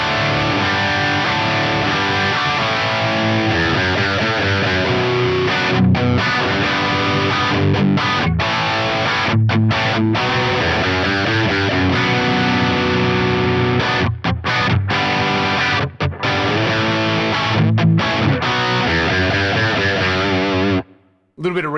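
Distorted electric guitar plays continuously, thick and saturated, with chugging chords and brief pauses near the end, run through a cabinet impulse response on a NUX Optima Air.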